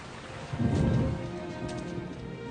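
Rain falling in a film scene with an actor outdoors in plasticized parka rain gear, a steady dense hiss with a brief swell of louder low rumble, no voices.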